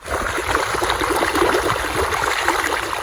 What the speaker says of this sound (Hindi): पानी भर लेते हैं, पानी ये चल रहा देखो।